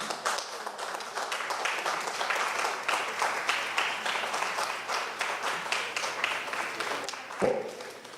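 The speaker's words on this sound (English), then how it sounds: "Please stand, please, for a round of applause." A crowd at a political party's annual constituency conference applauds steadily with dense, continuous clapping throughout, loud and sustained.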